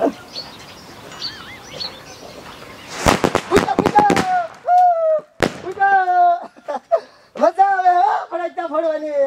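Diwali firecrackers bursting in a rapid crackling string of sharp pops, followed by a single loud bang, with animated voices talking and exclaiming around them.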